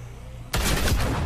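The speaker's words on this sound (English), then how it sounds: "And there's some shooting at me." Gunfire from The Walking Dead: A New Frontier video game breaks out suddenly after a low hum, a loud sustained burst of overlapping shots and blasts that fills the rest of the moment, with no talking.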